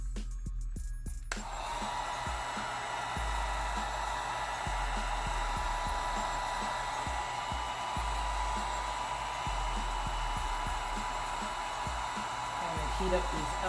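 A hair dryer heats alcohol inks on a stemmed wineglass, blowing a steady loud whoosh after a short start, with faint background voices and occasional low thumps.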